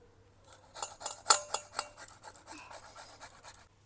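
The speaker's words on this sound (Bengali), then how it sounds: "এখন আদা গ্রেট করে নেব।" Fresh ginger root rubbed over a kitchen grater, giving a run of quick dry rasping scrapes in an uneven rhythm, close by and moderately loud over a steady low hum.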